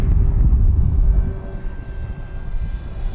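An FMS P-40B Flying Tiger radio-controlled model warplane, 980mm span, cruises slowly with flaps down in light wind, its motor giving a steady, fairly loud drone that eases off slightly toward the end.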